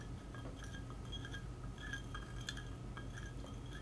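A spoon clinks lightly against a glass while sugar is added during a classroom science demonstration, a few faint, bright taps over a constant low hum, with no one speaking.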